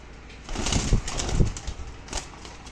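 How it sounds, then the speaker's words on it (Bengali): A few soft, low dove coos close by, with a brief rustle of movement, over a quiet background. "এখানে আছে ঘুঘু পাখি ঘুঘু পাখি আমি ব্রিডিং করাবো"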